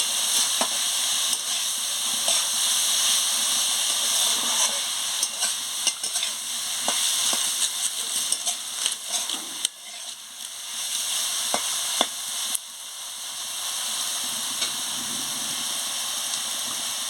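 Chopped vegetables sizzle and fry in a hot kadai, a steady loud hiss broken by occasional scraping and stirring clicks from a spatula, with no talking.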